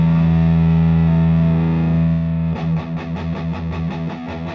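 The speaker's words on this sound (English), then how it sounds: "Now I kick on the distortion" A sustained electric guitar chord rings out, then switches to loud, gritty distorted strumming in a choppy rhythm.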